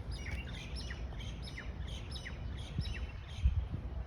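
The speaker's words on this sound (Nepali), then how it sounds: "यहाँ चराहरू मजाको कराइरहेको रहेछ यहाँनिर" Small birds chirp repeatedly in quick bursts outside Kuwait Towers, a lively series of high tweets at moderate distance over soft ambient rumble.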